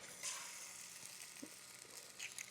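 An egg cracked into a sprayed pot over medium heat fries with a soft, steady sizzle and faint crackle, quiet and continuous, with no voices.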